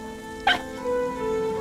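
A fox in the video game Rime gives a single short, sharp bark, followed by quiet game background tones.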